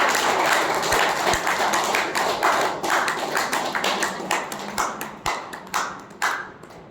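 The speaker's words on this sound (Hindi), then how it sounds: "रुक्मणी बहन के लिए जोर से तालियां बजाइए।" Audience applause for Rukmani at a diet-system talk session, a dense burst of clapping that thins into scattered, separate claps toward the end, fairly close and without speech.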